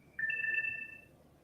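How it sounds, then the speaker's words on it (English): A cell phone rings with a bright electronic ringtone: one steady, sustained tone pattern lasting about a second over a low, murmuring room background. "I hear a cell phone buzzing."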